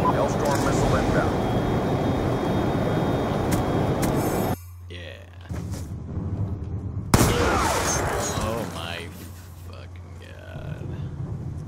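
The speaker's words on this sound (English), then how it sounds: "Hellstorm missile inbound." A Hellstorm missile strike lands in the Black Ops 2 video game, with a rushing aircraft-like roar, an abrupt cut, then a sharp boom and rumbling blast under busy game noise.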